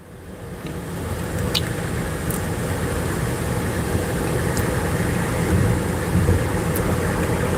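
A car drives through heavy city traffic in Atlanta, Georgia at about 60 mph: a steady engine and road roar with broadband wind noise, holding constant throughout with a few faint ticks on top.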